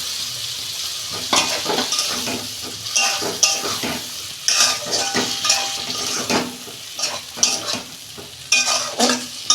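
Ridge gourd and potatoes frying in spiced oil in a pan, stirred with repeated scraping and clattering strokes over a continuous sizzle, close and loud, with no talk.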